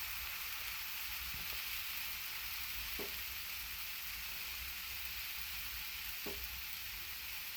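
Instant dosa batter sizzles on a hot pan over a high flame, a steady close frying hiss with a few faint clicks and no talking.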